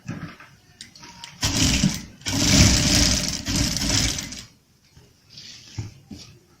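Electric sewing machine running an edge stitch along a kurta hem, in two or three bursts of steady mechanical whirring separated by short pauses, close by and moderately loud.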